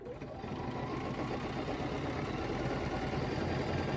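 A sewing machine runs steadily while stitching around a fabric circle for a sunflower quilt block in ruler work, a continuous even mechanical whir that holds for several seconds without pause.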